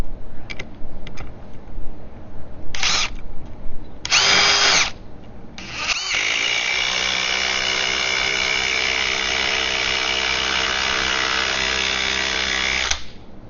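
A Ryobi P239 brushless impact driver on a compact 3 amp-hour battery drives a lag bolt into wood. It gives a few short loud bursts, then a long continuous hammering run of about seven seconds before it stops abruptly.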